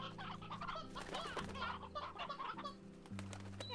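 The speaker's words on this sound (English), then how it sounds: "We have a lot of rock hens." Rock hens in Slime Rancher cluck in a busy overlapping flock, with faint wing flutters, all under steady looping background music.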